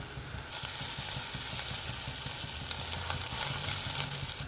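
Bitter gourd frying in hot oil with garlic, turmeric and ground coriander gives a loud, steady, close sizzle that starts abruptly and runs unbroken, with faint stirring scrapes beneath.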